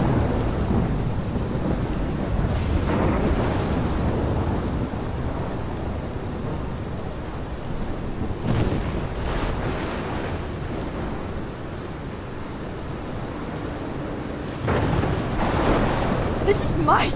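Thunderstorm in the video game Life is Strange Remastered: heavy rain hisses throughout while rumbling thunder swells and rolls in repeated waves, loud and enveloping, with occasional voices beneath.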